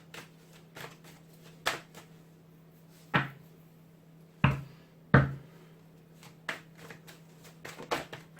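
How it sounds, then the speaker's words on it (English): Tarot cards shuffled by hand in a quiet room, giving a handful of sharp, separate riffles and slaps at irregular intervals over a low steady hum. "Obviously had a specific card in mind and it just wasn't shuffling around properly."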